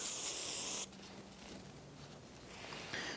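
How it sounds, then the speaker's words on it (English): A short hissing spray burst onto the splines of a Chevrolet S10 rear axle at the start, under a second, followed by quiet room tone with faint handling noises. "Going to give us a quick spray."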